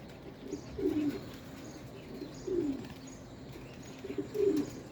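Pigeons coo softly in three separate bouts at a steady pace, with faint background noise between the calls.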